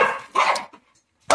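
A dog barks twice in quick succession, loud and close, in a domestic setting with children roughhousing; a short gap of quiet follows before another sharp bark.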